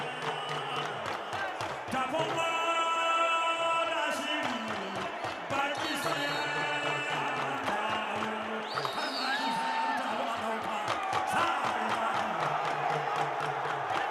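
Crowd at a Dambe boxing heavyweight bout cheering and shouting continuously, with rhythmic drumming and whoops under a commentator's voice, lively and steady throughout.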